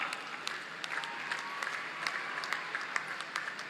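Applause greets Indian hockey captain Rani Rampal at a ceremony, a dense, steady patter of many hands clapping from a sizeable crowd, filling the whole moment with no voices over it.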